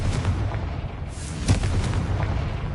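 A Confringo explosion spell in a video game goes off as a low, rumbling blast with a brief louder thump in the middle, heavy and booming without any speech.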